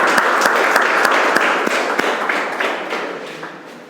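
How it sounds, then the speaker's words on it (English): Audience applause at a business networking talk, moderately loud clapping with a few sharp distinct claps standing out, gradually fading toward the end. "Guys, a huge round of applause for them, please."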